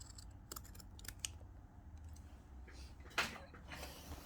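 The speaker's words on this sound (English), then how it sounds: "scissors, and then you can cut it shorter" Scissors snip at jeans fabric near a zipper in a few faint, crisp cuts and clicks spread across the span, over a quiet room hum.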